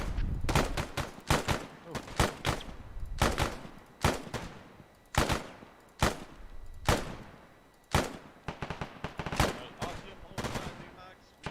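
Bursts of automatic suppressing fire in the military shooter Arma 3, sharp repeated volleys in irregular clusters across the whole stretch, loud and close, with occasional faint talk between bursts.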